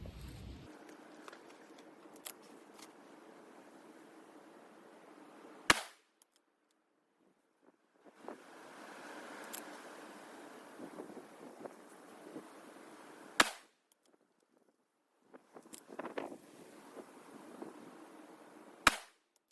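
A 6.5 Creedmoor rifle firing Hornady 123 grain ELD bullets loaded with H4350 powder lets off three sharp, loud shots spaced several seconds apart outdoors, with faint handling noises and rustling in between.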